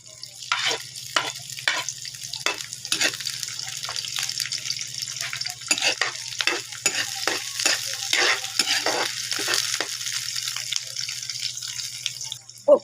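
Calamares frying in hot oil with garlic in a Filipino home kitchen, a close, crackling sizzle with repeated bursts of stirring and spattering, steady throughout with no talk.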